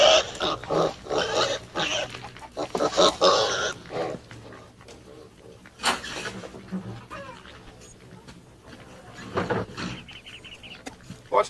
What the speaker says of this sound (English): get from here, you pig